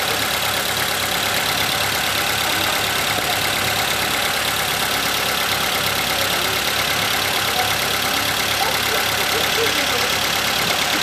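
Toyota Avanza / Daihatsu Xenia engine idling with its oxygen sensor unplugged, a steady, close, continuous hum with constant level and no talk.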